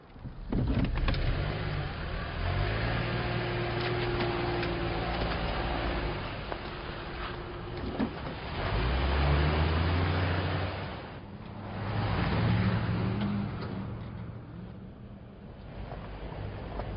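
A car driving steadily, a continuous low engine and road rumble with rising and falling revs throughout, close and fairly loud, heard from inside with no talking.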